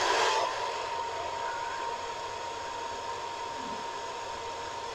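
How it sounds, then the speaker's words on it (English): A hair dryer runs on a 600-watt inverter with a steady, even whoosh and a faint whine, starting with a slightly louder burst, running alone and close. "if I use a hairdryer on number one"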